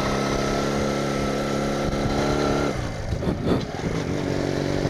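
A motorcycle ridden by kids passes on a road in South Bandung, its steady engine drone close and loud, then fading with a rushing swoosh partway through.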